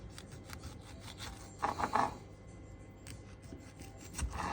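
Tomatoes being cut into cubes for bruschetta: a knife makes quiet rubbing and scraping strokes on a board, with a brief louder chopping flurry and a few soft knocks, and no talk.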